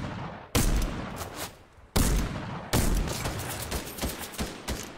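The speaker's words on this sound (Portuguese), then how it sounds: "Olha com essa distância aqui, não vou acertar nunca esse tiro." Gunfire in a shooting video game: three loud bursts of rapid shots that start suddenly, each trailing into rattling fire and echo, with no voices.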